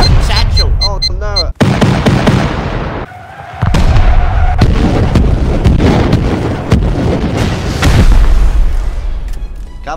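Rockets explode in the survival game Rust during a base raid, heavy booming blasts and crackling bursts with gunfire-like pops, loud and close, separated by a brief lull, with players talking over the action.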